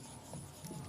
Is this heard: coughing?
no